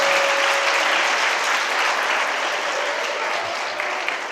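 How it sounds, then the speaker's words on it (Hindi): Audience claps for the president of a community service association at a Jain monk's discourse, a continuous, even wash of applause lasting several seconds, loud and full without pauses. "हमारे अध्यक्ष जी के लिए तालियां बजाइए।"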